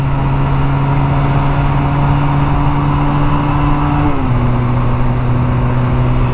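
Motorcycle engine in third gear on a highway, a loud sustained drone close by with a steady pitch that dips briefly as the revs shift, wind noise throughout.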